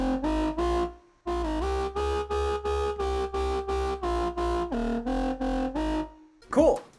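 A pulsing, gritty jump-up drum and bass synth bass riff in short rhythmic stabs with shifting pitch, loud and upfront, followed by a brief squelchy sweep.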